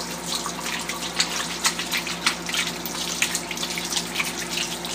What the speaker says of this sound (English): let me wash my hands real quick here because I have bacon grease all over my fingers